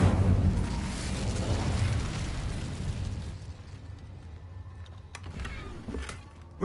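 A fiery spell blast in Hogwarts Legacy booms loudly at first, then fades into a crackling, rumbling decay, followed by a few sharp pops and clicks near the end.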